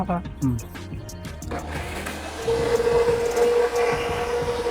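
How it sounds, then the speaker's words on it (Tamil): Garlic and small onions whir in a mixer grinder for a Vaigai Dam style fish kulambu; a voice talks over clatter first, then the grinder's steady motor hum and churning rise and hold to the end. "வெள்ளைப்பூடு போட்டு அரைக்கிறீங்களாக்கா?"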